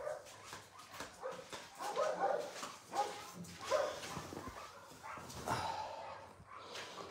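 Several dogs in a shelter room bark and whimper in scattered bursts, some yips rising above a roomy, echoing background at moderate distance.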